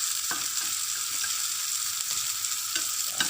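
A hotdog fries in a pan with a continuous bright sizzle and light spattering pops, close and steady, with no voices.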